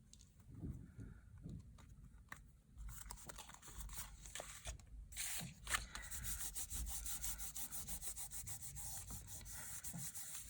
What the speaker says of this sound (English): Just going to rub it on the back a little bit because I don't want to rub too much on the embossed surface